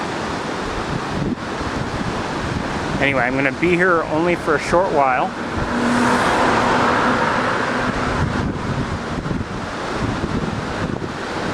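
A steady breeze on a sunny day buffets the microphone with continuous low rumbling wind noise, mixed with passing road traffic on a busy graduation weekend near Cornell, while someone talks over it partway through.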